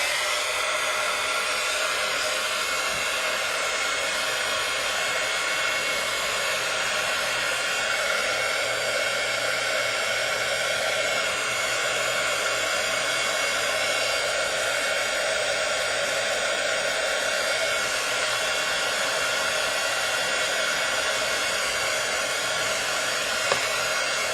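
A hair dryer blows steadily on the paint of a handmade card, a loud, close, unbroken whooshing roar that holds evenly from start to finish with no pauses.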